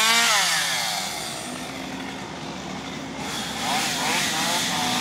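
A chainsaw engine whines and revs, its pitch dropping and rising as it cuts through trees during land clearing, loud and fairly close, running continuously.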